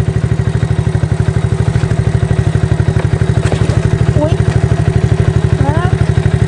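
A small Chinese Kayo quad bike, a 110 or a 200, runs close by with a loud, rapid, steady engine pulse. Voices talk over it now and then.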